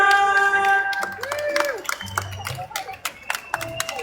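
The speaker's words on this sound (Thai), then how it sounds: "ขอเสียงปรบมือด้วยครับ" An audience claps in a crowded room, with scattered hand claps that thicken toward the end, mixed with voices and sustained tonal sounds.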